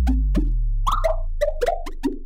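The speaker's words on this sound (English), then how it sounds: "SOPHIE was one to obsess over the way a bubble has an ascending pitch when popped" A run of eight or so short bubble pops, each one a quick plop that sweeps upward in pitch, spaced irregularly and heard alone at close range.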